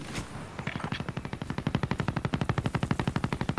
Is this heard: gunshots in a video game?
yes